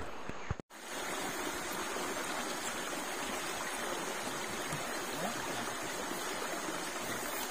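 River in the countryside near Sampurno village heard on a mountain bike trail, a steady rushing flow of water after a brief handling knock at the start.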